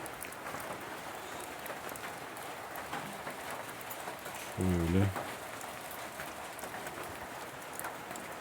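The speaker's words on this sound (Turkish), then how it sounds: "Bahçe içinde yağmur iyi oldu." Steady rain falling on a village house garden with trees, a constant dense patter throughout, with a brief low thump midway and a voice speaking once.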